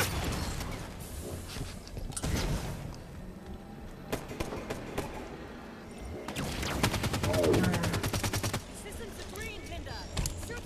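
Gunfire in Halo 5: Guardians: bursts of rapid automatic shots and sharp single reports mixed with mechanical clanks, loud and close, scattered through a busy battle with voices speaking over parts of it.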